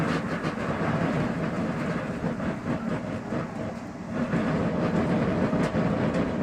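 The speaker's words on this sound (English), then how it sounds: "It's just dragging parts and pieces." NASCAR race car dragging broken parts and pieces after a huge crash at the 2010 Coke Zero 400, a continuous loud scraping, rattling roar with rhythmic clatter, steady and close with no talk.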